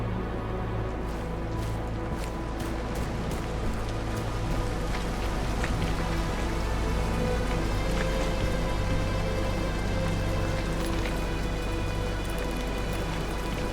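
In the video game The Caribou Trail, rain falls as a steady, unbroken hiss that stays at an even level throughout, with no voices.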